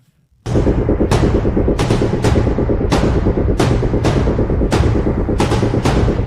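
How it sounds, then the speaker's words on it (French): A series of explosions in a Paris street sounds as loud, close booming blasts, about a dozen in a regular rapid rhythm, each ringing out briefly before the next, with no talk over them. "on signale une série d'explosions comme celle que nous voyons dans cette rue"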